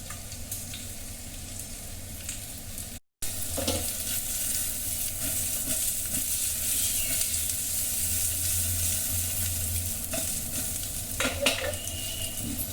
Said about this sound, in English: Let them cook on low heat and turn them in between so that all parts are caramelized